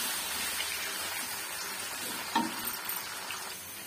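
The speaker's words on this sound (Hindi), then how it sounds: "अब इनको प्याज को अच्छी तरीके से हम फ्राई करेंगे।" Chopped medium-sized onions frying in a pan, a soft steady sizzle with a brief stir or clatter partway through, faint and close.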